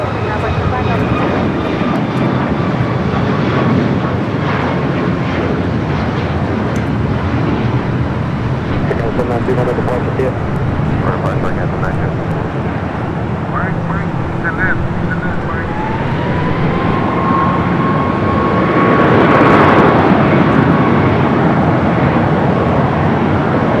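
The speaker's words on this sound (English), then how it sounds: "a 787-8 Dreamliner, flight 22, heading back to Warsaw." A Boeing 787-8 Dreamliner departs Los Angeles International Airport bound for Warsaw, a steady broadband jet roar with a faint rising whine that swells louder near the end, while voices talk over it.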